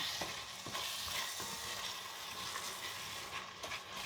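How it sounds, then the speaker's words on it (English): Ginger, garlic and jar laksa curry paste fry in a pan for Thai curry laksa, giving a steady close sizzle with occasional stirring scrapes and no talk. "Mix it all in and fry that all up together."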